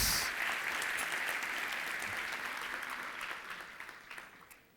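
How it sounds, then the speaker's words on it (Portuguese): A church congregation at an evening service claps loudly in praise, a dense, continuous round of applause that gradually fades toward the end. "Você pode aplaudir bem forte nesta noite, louvando a Deus."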